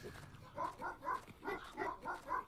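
A dog attacks in a video game with a run of short, rhythmic growling barks, about six in quick succession, moderately close and clear.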